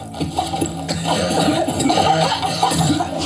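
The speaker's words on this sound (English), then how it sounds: "Those coughs, wow." Repeated coughing from a World War Z pinball table, a cluster of rough, throaty coughs over a steady bed of game music and effects.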